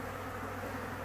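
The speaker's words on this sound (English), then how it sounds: "these bees over here, those are orientation flights" Dense, continuous buzzing of many bees in flight nearby, a steady hum without pauses.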